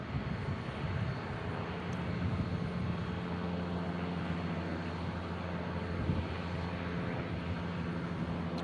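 A small Cessna airplane drones overhead near Omaha Eppley Airfield, a steady, moderately distant propeller-engine hum with broadband wind-like noise, holding level throughout.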